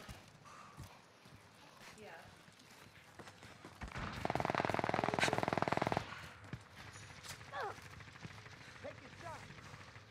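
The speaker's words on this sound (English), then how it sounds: "They're all still firing up there." Rapid automatic gunfire in a video game battle royale rattles in a dense burst for a couple of seconds mid-clip, with scattered distant shots, chirpy game sounds and voices around it.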